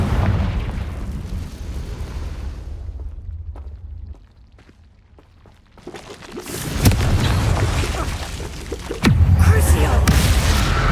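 Confringo explosive spell blasts in Hogwarts Legacy, heavy booming bursts with crackling debris, a quiet lull with sharp pops, then louder explosions close by; a voice speaks briefly amid the fighting.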